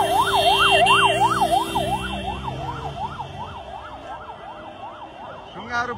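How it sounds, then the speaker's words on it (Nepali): Ambulance siren wails in a rising-and-falling two-tone sweep while passing through a Kathmandu street during curfew protests, loud at first and then fading as it moves away over a background of street noise. "एम्बुलेन्स यहाँनिर गइरहेको छ।"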